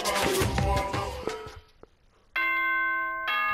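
The Danganronpa: Trigger Happy Havoc announcement chime plays after a burst of music, a loud sustained bell-like tone sounding alone.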